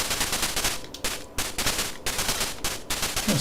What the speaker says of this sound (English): There's people shooting at me.